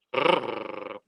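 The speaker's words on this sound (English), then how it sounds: "it was a growly grr" A dog gives one sustained, close growl lasting about a second, rough and throaty, starting strong and holding steady before cutting off.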